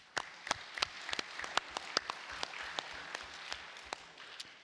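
Scattered applause in a meeting room during a reapportionment session, individual claps distinct and uneven, moderately close and thinning out toward the end with no talk over it.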